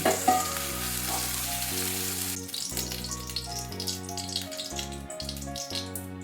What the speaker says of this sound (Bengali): বেগুনগুলো আমার হালকা করে ভাজা হয়ে গেছে